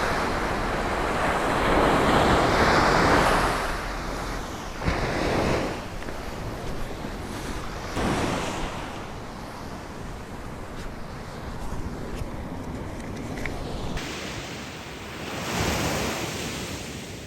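Surf washing onto a Caribbean beach, a steady roar of breaking waves with gusts of wind buffeting the microphone, loudest early on and swelling again near the end, with no talk.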